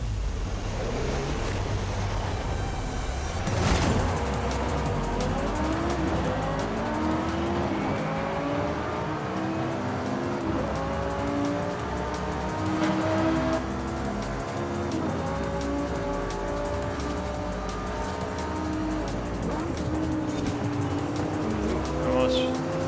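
Race car engines roar in Forza Horizon 5, rising and falling through gear changes with some tire noise during a busy race involving a Porsche. The sound is continuous and fairly loud, and a voice talks over it.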